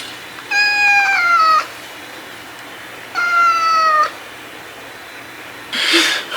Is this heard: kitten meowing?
yes